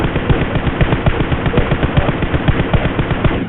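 Gunfire in the mobile battle royale game PUBG Mobile, rapid bursts of automatic shots in a fast, steady rhythm, loud and continuous, with no voices.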